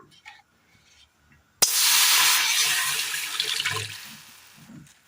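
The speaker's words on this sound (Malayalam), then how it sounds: "ഇതിലേക്ക് അല്പം വെള്ളം ഒഴിച്ചു കൊടുക്കാം." Water poured from a vessel into a cooking pot on a stove during preparation of a Kerala cabbage roast, a sudden loud steady splashing stream that starts abruptly and tapers off after a few seconds, with faint sounds before it.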